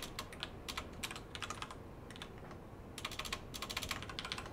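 Fast, light clicking on a computer keyboard, heard as bursts of keystrokes with short pauses between them, close and quiet with no talk.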